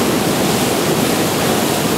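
Fast, mean-looking rapids on the Newhalen River in Alaska rush as a loud, steady broadband roar of churning water, close by and unbroken, with no voices.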